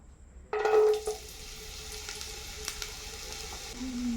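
Grated carrot tumbles into hot oil and bursts into a sharp sizzle, settling into a steady, close frying hiss with faint stirring scrapes near the end.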